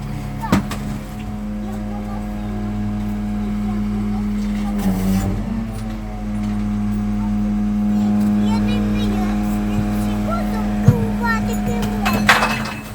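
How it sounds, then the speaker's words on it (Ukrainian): A garbage truck engine hums loudly and steadily nearby with a low, droning tone, joined by occasional clanks, while people talk over it outdoors. "Пішли, поїхала сміттєвозка."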